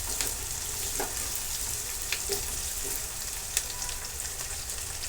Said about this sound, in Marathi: त्या मिरची देखील आपण आता तेलामध्ये व्यवस्थित परतून घेणार आहोत.